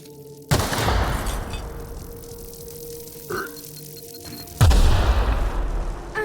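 Two loud landmine explosions in The Outer Worlds, each a sharp booming blast with a long rumbling decay, spaced about four seconds apart, with a small pop between them.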